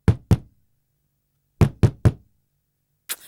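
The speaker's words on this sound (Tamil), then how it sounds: "வேகமா தட்டுடா" Sharp knocks on a door: two quick raps, a pause, then three more evenly spaced, loud and close in a quiet room, ending with a brief scrape.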